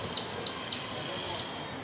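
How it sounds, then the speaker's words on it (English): Birds chirping in trees on a scenic hilltop overlook, four short high tweets spaced irregularly, fairly faint over a steady breezy ambience. "Wow, and all the birds in the trees."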